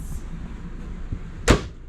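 A kitchen cabinet in an RV opens with a single sharp, close knock of the door against a quiet room background.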